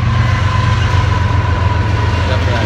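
Train rumbling past close behind someone walking outdoors, a loud continuous low roar with a faint steady whine above it, filling the whole moment.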